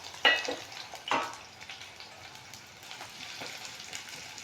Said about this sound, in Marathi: कढीपत्ता तळून झाला की त्याच्यामध्ये टाकूया पातळ चिरलेला 1 कांदा. कांदा पण आपल्याला फ्राय करून घ्यायचा आहे.